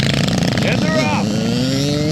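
Mini bikes, including a Suzuki two-stroke RM85, launching off the line at a girls' race, loud buzzing engines revving and rising in pitch together as they pull away, under a commentator's voice.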